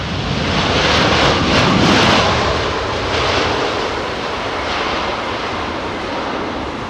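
An Etihad airliner comes in to land on runway 27R at London Heathrow, its engines giving a loud, steady broadband roar that swells early and then holds close overhead.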